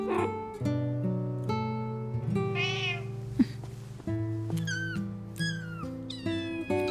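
A tired mother cat meows repeatedly in rising and falling calls, clear and close, over steady background music.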